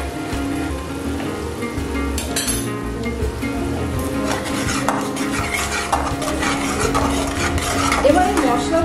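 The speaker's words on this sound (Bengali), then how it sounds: "এবার এই মশলাগুলোকে নাড়াচাড়া করে মিশিয়ে নিচ্ছি" Spoon stirring Kashmiri red chilli powder, tomato and spices in a pot for Punjabi dal makhani, with steady scraping and light clinks of utensil on metal and a soft sizzle underneath, close and continuous.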